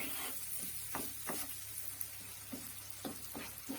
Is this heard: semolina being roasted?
yes